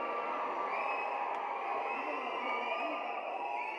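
A packed crowd at the Viduthalai Part 2 audio and trailer launch shouts and whistles in a loud, unbroken roar that fills the whole stretch.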